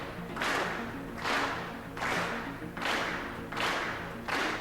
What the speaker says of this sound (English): Are they just creepily gonna keep clapping?